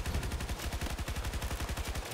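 Sustained automatic fire from an RPT-31 light machine gun in Battlefield 2042, a rapid, steady stream of loud close shots at an even rhythm for about two seconds with no talking.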